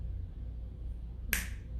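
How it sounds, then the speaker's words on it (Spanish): One crisp finger snap, sharp and close, arriving near the end after a quiet stretch with low room hum, alone with no talk. "con el chasquido de sus dedos."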